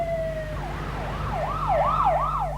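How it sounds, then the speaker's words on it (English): A wailing siren rises and falls repeatedly, growing slightly louder over steady low street noise. "the sound of a siren heading down Cahuenga helped me make up my mind"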